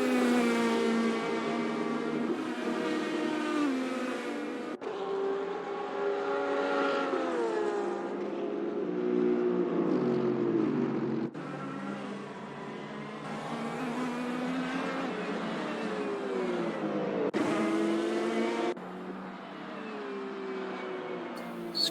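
A yellow Porsche race car in a sim racing game at Mugello drones continuously as its engine climbs through the revs, cuts sharply at each upshift and climbs again, loud and steady throughout with no voices.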